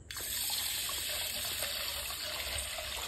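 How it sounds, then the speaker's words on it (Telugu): Water pours from a tap into a freshly washed cooking pot, a steady gushing splash that starts abruptly and continues evenly, close and alone. "ఇలా నీట్గా కడుక్కున్న తర్వాత ఇందులో నీళ్ళు పోసేయాలి"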